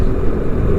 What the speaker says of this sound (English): here I am, riding my own Goldwing